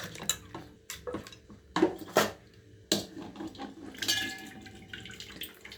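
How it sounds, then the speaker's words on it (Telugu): Warm tamarind extract poured through a strainer into a bowl gives intermittent splashes and trickles, with clinks of a utensil against the dish between pours, close and fairly quiet. "ఫిల్ట్రేషన్ ఫ్రెండ్స్ కింద గింజలు పడకుండా ఇట్లా పోసుకోవాలి"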